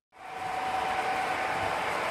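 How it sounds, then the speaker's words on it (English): Model trains running on a 14-by-6.5-foot conventional-power layout that carries up to five trains at once, a steady close rumbling whir that starts abruptly and holds at constant volume, with a faint high whine. "One of the things I enjoy is running as many trains as I can."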